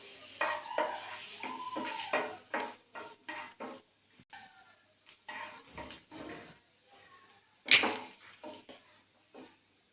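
Raisins sizzling and being stirred in ghee in a pan with a spoon, a series of short scraping, clinking strokes at close range with a sharper knock near the end, no talking.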